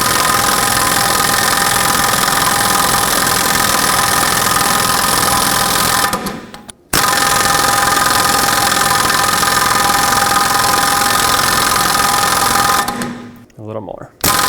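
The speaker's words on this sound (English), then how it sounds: "now you take your air gun and tighten it up until it is completely pulled through the hub" A pneumatic air impact gun tightens a rear lug stud through the hub of a 2005-2010 Pontiac G6, with two long loud continuous bursts of whirring hammering separated by a short pause, running close up.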